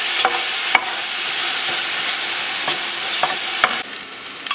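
Onion sautés in a pan with a steady bright sizzle, punctuated by sharp scrapes and taps of a spoon stirring at irregular intervals.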